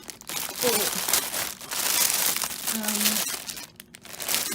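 Gift wrapping papers and envelopes being handled, giving continuous close crinkling and rustling for several seconds, with brief tonal squeaks and a short dip near the end.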